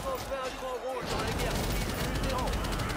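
A turret fires in the video game Lost Ark: a short voice opens the clip, then a dense, rapid rattle of gunfire continues at moderate volume.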